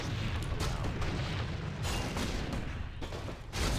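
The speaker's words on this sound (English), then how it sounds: "Why is this place filled with explosions?" Explosions in the Warcraft 3 Frozen Throne Scourge campaign, a dense run of loud booming blasts rolling into one another for several seconds with no gaps.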